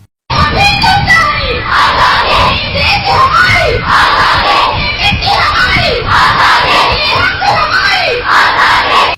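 A large crowd of girls, some wearing hijabs, shouts protest slogans against a citizenship law, loud rhythmic chants rising and falling in repeated waves without pause.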